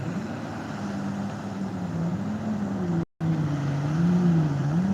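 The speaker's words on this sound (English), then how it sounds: "We got a jet ski rolling up on his ass." A jet ski engine drones steadily on the water near Reedy Point Bridge, its pitch rising and falling as it passes. The sound drops out for a moment partway through, then the motor returns.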